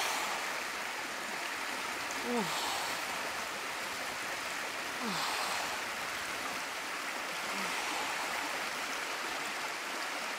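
Steady rush of a cold river beside a riverside camp in Corsica during a bath, a broad close flowing wash with faint voice sounds over it.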